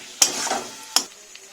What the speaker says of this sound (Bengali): এটাকে এবার আমি কষাতে থাকবো 3 থেকে 4 মিনিট, গ্যাসটাকে মিডিয়ামে দিয়ে।